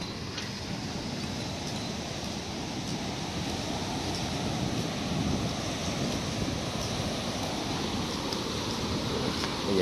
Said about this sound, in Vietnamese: Ngắm cái cảnh mà sóng biển nó đánh vào.